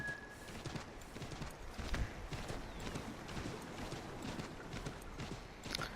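A horse gallops in Assassin's Creed 3, with a steady, close run of hoof clip-clops over a busy game ambience and no talk.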